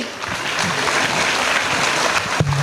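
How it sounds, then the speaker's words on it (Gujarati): Dense, sustained applause from a school annual-function audience, steady and fairly loud throughout, with a brief low tone near the end. "આપણને આ વૃક્ષનું મહત્વ સમજાવી ગયેલ આપણા કલાકાર મિત્રો માટે તાળીઓ અટકવી ન જોઈએ"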